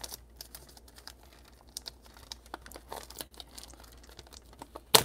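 Plastic wrapping on a Pokemon Jungle card pack is torn open by hand, heard as faint, scattered crinkles and crackles with a sharper rip right at the end.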